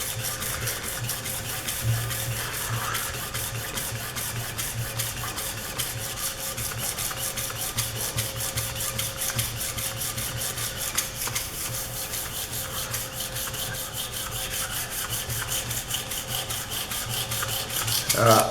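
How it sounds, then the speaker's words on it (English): Sandpaper rubs steadily by hand across an engineering drill gauge to remove a mark, a continuous rasping scrape with even rhythm, close and moderately loud, with no talking. "You can see how clogged up that sandpaper is."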